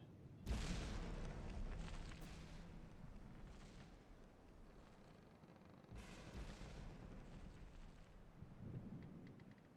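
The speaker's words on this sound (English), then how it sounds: "Let's fire a few more torpedoes just to have fun" Torpedoes fired and exploding against ships in the naval game From the Depths, two large rumbling blasts several seconds apart, each followed by a long fading roar over steady background noise.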